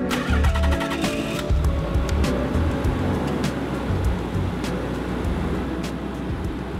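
Nissan R32 GTR engine cranking and catching, then settling into a steady, loud idle with a rough low rumble that runs continuously to the end.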